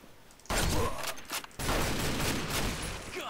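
Bursts of rapid gunfire in a military first-person shooter, loud crackling volleys starting abruptly, pausing briefly, then resuming in a dense sustained stretch.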